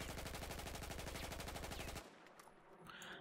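An ACE 23 rifle in Battlefield 4 fires a rapid sustained burst of evenly spaced automatic shots for about two seconds, then stops abruptly, leaving quieter rattling and background game noise.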